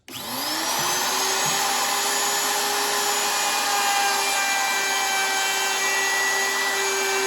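A router on a router table trims the edge of a wooden disc sign, a steady high-pitched motor whine that holds loud and continuous throughout, with the cutter's broadband rasp layered over it.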